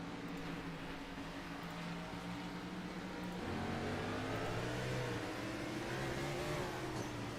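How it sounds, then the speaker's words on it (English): A race car engine revs hard during a circuit race at Rockingham, loud and continuous from onboard, its pitch stepping down at a gear change midway before climbing steadily again. "Let's listen to the car."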